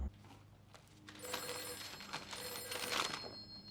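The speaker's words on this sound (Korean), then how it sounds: "잠시 뒤 걸려온 로즈의 전화" A landline telephone rings in a quiet room, its bright electronic trill sounding in two or three bursts over a low background hum.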